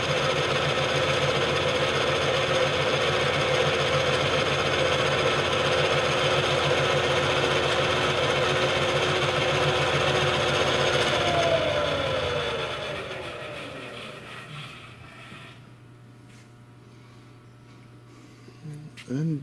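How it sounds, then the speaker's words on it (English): A Hardinge HLVH lathe runs with a steady, loud mechanical whir and hum, then spins down and fades to a quiet, faint idle toward the end. "And that is basically all the features of the lathe. It's a good running machine."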